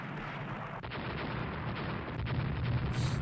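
Heavy 14-inch naval guns firing in the naval strategy game Rule the Waves, a dense rolling barrage of deep booms and rumbling blasts layered continuously, with a sharper report near the end.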